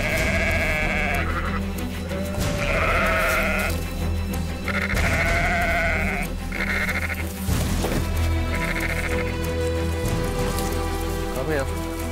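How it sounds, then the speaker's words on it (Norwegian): Sheep bleating inside a sheep shed, repeated drawn-out calls from several animals, near and loud, over a steady patter like rain on a roof, with a voice speaking briefly among them. "Bare å komme kjapt inn i smalagaren og få tak i en smale sau."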